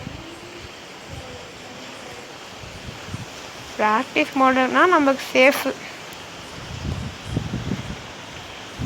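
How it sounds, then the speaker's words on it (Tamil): Strong night wind rushes outdoors near a house as a steady, breathy roar throughout. Someone speaks briefly partway through. "இப்போ செமையாக காற்றடிக்குது கைஸ் இங்கே என் வீட்டுக்கிட்ட"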